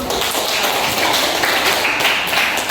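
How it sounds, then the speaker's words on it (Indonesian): Applause fills a classroom after a class presentation, a dense, steady clatter of many hands clapping at once that stays loud throughout. "Silakan kembali ke depan, kita kasih aplaus."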